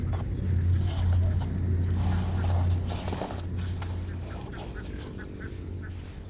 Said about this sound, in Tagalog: yung mga itik natin ay dito lang pinapagala natin